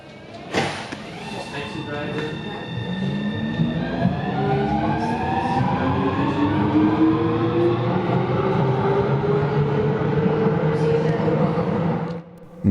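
Copenhagen Metro train running along curving track, its motor whine rising steadily in pitch as it accelerates, with a continuous loud rumble heard from on board for most of the stretch.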